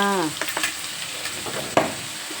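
Noodles for pad see ew being stir-fried in a pan with oyster sauce and seasoning powder, a steady close sizzle broken by several sharp scraping stirs and one louder clank of the utensil.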